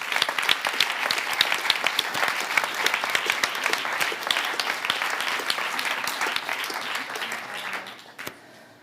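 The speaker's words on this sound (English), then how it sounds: "I think we can make a great applause for our speakers." An audience at a conference opening session on Ukraine's recovery applauds its speakers. The clapping is full and steady for several seconds, then tapers off with a final thump.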